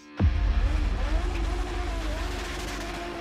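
A Group B rally car bursts in with a sudden loud engine roar, then keeps snarling as the revs rise and fall, the close, gritty motor note slowly easing off.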